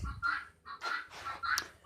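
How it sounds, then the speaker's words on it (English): A guinea fowl on a farm calls in loud, harsh repeated bursts, about four short squawking cries in quick succession, close and clear. "that is a guinea that's going off in the background. Them guineas are so loud."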